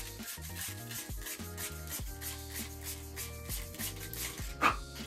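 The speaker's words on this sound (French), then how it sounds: "je mets juste un petit coup de ponçage où je vais mettre la colle pour que ça adhère mieux" Light hand sanding on a surface in a camper van before glue goes on, heard as repeated short rubbing strokes under steady background music, with a brief sharper scrape near the end.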